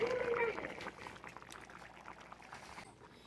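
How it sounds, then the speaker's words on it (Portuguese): Water is poured into a pot of cooking beans on a lowered stove flame, a faint liquid splash and trickle with someone talking nearby. "vou colocar mais um pouco de água pra esperar isso aí que acabar de cozinhar"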